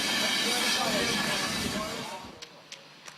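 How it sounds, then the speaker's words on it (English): Hunslet Austerity steam locomotive 3887, a 1964 rebuild, working at the Smithywood plant: a loud steady hiss and rumble of steam and moving wagons that fades away, followed by a few faint clanks. "the plant's other surviving steam loco was in action, Hunslet Austerity 3887, another 1964 rebuild"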